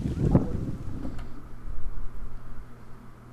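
Gusty wind buffets the microphone outdoors on the water during plein air painting from a kayak, a low rumbling roar that swells and eases throughout with no talking.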